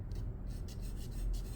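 Graphite pencil drawn in long, even sweeps across paper while tone is laid on a drawing of a two-coloured sphere, a soft continuous rubbing rasp with faint repeated stroke pulses, close and steady.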